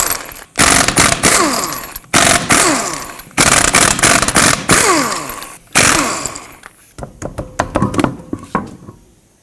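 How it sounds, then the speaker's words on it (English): Impact gun spinning lug nuts off a 2009-2015 Toyota Prius front wheel, several loud rattling bursts separated by short pauses, followed by lighter clinks and knocks as the nuts come free. "Take a 21mm socket and remove all 5 of your lug nuts"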